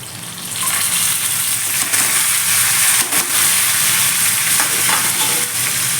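Green chillies and lightly boiled snake gourd sizzle and fry in a pan, a loud, close, continuous crackle with occasional stirring scrapes.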